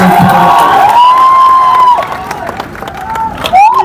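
A loud crowd at a political rally in Samastipur, India, cheers and shouts, with a shrill whistle and whoops rising over the noise and only light clapping.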